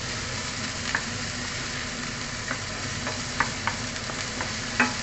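Chicken breast and spinach fry in a pan with a steady close sizzle, punctuated by a few soft stirring clacks; no voices.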